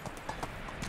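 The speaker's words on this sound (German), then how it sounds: "Und dann kann das Pferd nämlich auch noch reiten ordentlich schnell." Horse hooves clip-clop in a steady quick rhythm as a horse is ridden fast in the medieval survival game Medieval Dynasty, close and clear with no talk.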